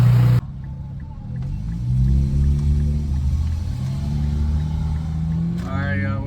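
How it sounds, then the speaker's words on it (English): Infiniti Q60 Red Sport twin-turbo engine fitted with Stillen intakes, a deep, close rumble with rising whining tones as it pulls during a test drive. A brief burst of other sound opens the clip and a short sharper whine closes it. "But first, you could hear them turbos so clear."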